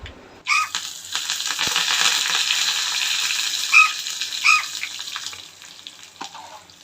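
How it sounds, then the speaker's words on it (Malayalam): Hot tempering of mustard seeds, dried red chillies, curry leaves and asafoetida poured into rasam bursts into a loud, close sizzle that crackles steadily, pops twice, then slowly dies down. "വറ്റൽമുളകും കറിവേപ്പിലയും കായം ഇട്ടിട്ട് താളിച്ചിട്ട് നമ്മളെ രസത്തിലേക്ക് ഒഴിച്ചു കൊടുക്കാം."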